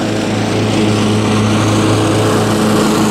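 A Cub Cadet XT1 Enduro riding lawn mower cutting grass, its engine droning loud and close with a steady hum and blade whir throughout, no talk.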